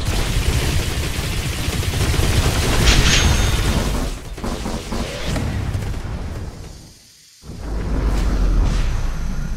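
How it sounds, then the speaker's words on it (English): Laser cannon fire from a ship in the space combat game Descent Underground, loud and continuous in rapid bursts with whooshing blasts, dropping out briefly near the end before resuming. "Laser cannon."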